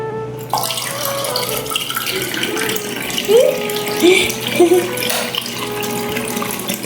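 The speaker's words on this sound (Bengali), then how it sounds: "চোখটা ধুয়ে নাও সুন্দর করে, এমন ভাবে জল নিয়ে" Tap water runs and splashes steadily in a home sink while a child's face and eyes are washed, with brief higher splashes and hand movements in the stream and no talk.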